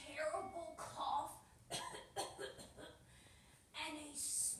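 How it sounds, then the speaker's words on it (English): A voice coughs several times in quick, uneven bursts during a puppet show, near and fairly loud, with short pauses between the coughs. "Too bad I have a terrible cough"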